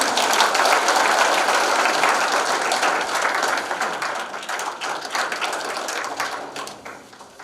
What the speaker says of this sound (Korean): 회원 여러분, 뜨거운 성원의 박수를 부탁드립니다.